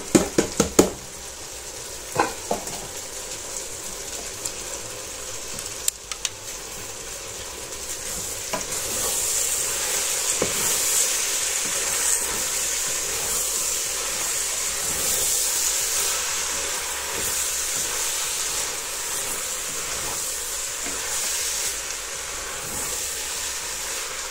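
Green onions sizzle steadily in a hot pan of sautéed cabbage, a continuous frying hiss at close range, with a few sharp clicks and utensil knocks early on and no voices.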